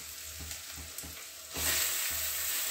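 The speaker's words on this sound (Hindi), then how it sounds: "लहसुन अदरक भी फ्राई हो गया है। अब हम इसमें टमाटर डाल देंगे।" Garlic and ginger frying in a pan for egg curry, a close, continuous sizzle broken by rhythmic stirring scrapes, then a louder burst of hiss as tomatoes hit the hot oil.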